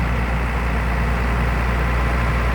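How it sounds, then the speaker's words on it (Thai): A six-wheel Isuzu FC9J dump truck hauling rock runs its engine steadily, a constant close, heavy low rumble that holds at high revs without pauses. "เร่งเครื่องไว้อยู่ครับ"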